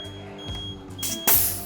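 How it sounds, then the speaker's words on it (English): A tyre inflator's steady high electronic beep sounds on reaching 70, then a loud burst of hissing air rushes out near the end, from a 30mm tyre. "it'll give us a beep like a microwave."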